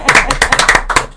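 A small group gives brief, close clapping in a quick run of about ten claps at a Spanish-language gathering, lasting barely a second.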